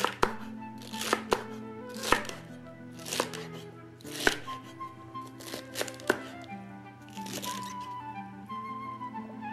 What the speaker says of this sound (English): chop it coarse.